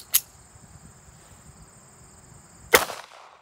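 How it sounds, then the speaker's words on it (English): Two sharp, loud pistol shots from a 9x18mm Czechoslovakian CZ82 fired at close range, about 10 to 15 feet, at a Kevlar helmet. They are spaced well apart with a faint steady hum between them. "So the first pistol we're going to be using is the 9x18mm Czechoslovakian CZ82 pistol."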